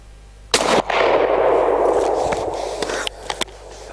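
A single sharp rifle shot from an Anschutz 1770 in .223 firing a V-MAX round at a soda can on a distant stump outdoors, followed by a long rolling echo and a few faint impact cracks.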